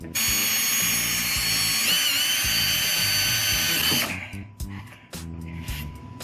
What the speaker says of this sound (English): You want to let the drill do most of the work, but you do have to apply some force.